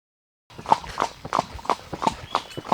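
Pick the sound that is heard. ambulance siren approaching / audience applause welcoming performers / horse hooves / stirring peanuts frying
horse hooves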